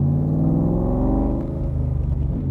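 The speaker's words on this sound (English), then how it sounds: "hit the starter button, she fires up" A 1965 Shelby Cobra V8 running after being started with a starter button, giving a loud, steady, deep rumbling idle with throaty harmonic pulses that dip slightly partway through, with no talking.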